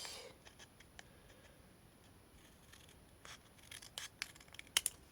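Scissors snipping through paper while a scrapbook box is made, a sequence of quiet close clipping and rustling sounds that build to several sharper cuts near the end.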